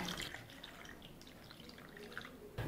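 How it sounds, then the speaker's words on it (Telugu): Cold water poured over freshly boiled small potatoes in a bowl, a faint close splashing and trickling that runs briefly and ends with a small clatter. "ఉడికించుకున్న బంగాళదుంపల్లో చల్లనీళ్ళు వేసేసుకుందాం."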